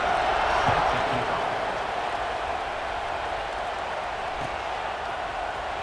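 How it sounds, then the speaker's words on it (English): A stadium crowd in the College Football 26 video game buzzes after a score, a dense, steady roar of many voices that holds at an even loudness throughout. "this crowd is buzzing after that last score"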